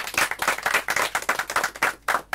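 Concert audience applause in a small venue, a close burst of individual hand claps that carries on steadily, then breaks off briefly and returns with a final flurry.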